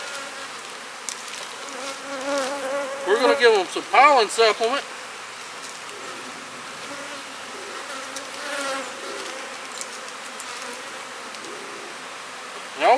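Honey bees at a cell builder hive, a low constant hum with close, louder buzzing bursts as a bee flies near, while someone speaks briefly.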